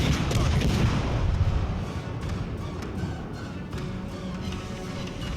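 Naval gunfire from warships in the World of Warships Legends video game: dense, continuous booming and rumbling salvos, loud at first and then steady, with faint voices underneath.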